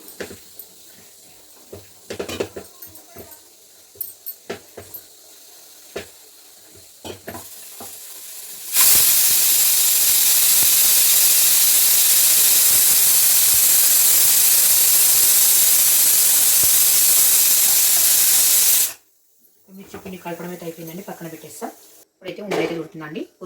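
A pressure cooker cooking mutton curry releases a loud, continuous, hissing steam whistle for about ten seconds, starting and stopping abruptly, between stretches of quieter kitchen sounds and talk.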